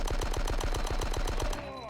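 Rapid automatic gunfire from Die Hard: Nakatomi Plaza, a steady burst of loud, evenly spaced shots for about a second and a half before cutting off into a fading ring.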